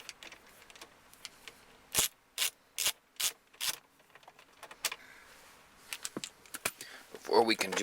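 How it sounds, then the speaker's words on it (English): A 10mm mounting screw is worked loose from a Toyota Camry car stereo: a series of five short rasping ratchet strokes, close and fairly loud, followed by softer scattered clicks and scraping. "We're going to remove the second mounting screw over here on the right."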